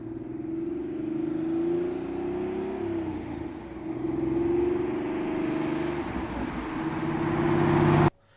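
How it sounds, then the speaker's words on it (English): A car rolls past slowly in a park, its engine humming and rising gently as it approaches, then cutting off abruptly at the end. "here's some slow-speed drive-bys"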